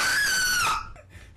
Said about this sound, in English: Was that Dope's mom screaming?